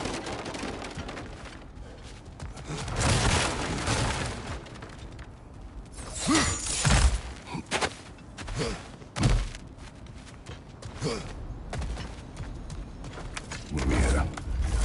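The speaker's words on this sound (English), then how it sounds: "Ah, back to smashing through things for fun and profit." In God of War Ragnarok, heavy blows smash through breakable objects, giving loud thuds, cracks and crashing bursts at irregular intervals over a rumbling game soundscape.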